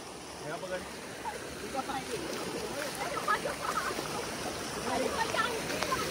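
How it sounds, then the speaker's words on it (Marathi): A small monsoon stream in Badlapur flows steadily nearby, a continuous rushing, splashing wash of water with faint voices mixed in. "छोटीशी अशी इथे मिनी नदी"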